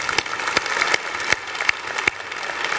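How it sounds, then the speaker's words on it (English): Audience at a school district state-of-the-district address applauding the school board, a steady clapping wash with a few sharper individual claps standing out, fairly close and without talk. "Let's give our school board a round of applause."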